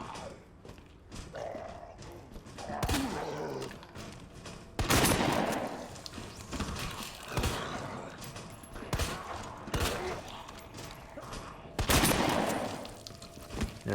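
Shotgun blasts from the Resident Evil 2 Remake video game firing at zombies, several loud booming shots spaced apart among footsteps and game ambience, with a strong burst near the middle and another toward the end.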